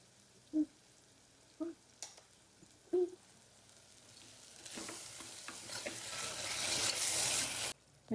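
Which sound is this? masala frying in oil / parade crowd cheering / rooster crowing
masala frying in oil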